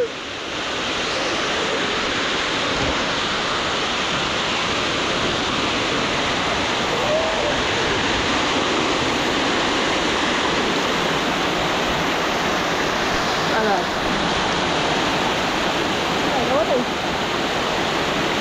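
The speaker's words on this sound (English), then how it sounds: "Welcome to Bamondo Waterfall" Bamondo Waterfall roars with a loud, steady wash of rushing water close by, unbroken for the whole stretch, with a voice faintly mixed in underneath.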